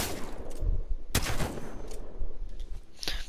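Shotgun blasts from a Mastiff in Apex Legends, one sharp loud report standing out among quieter shots and game noise, with no talking.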